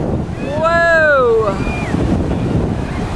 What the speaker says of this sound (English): These waves are giant.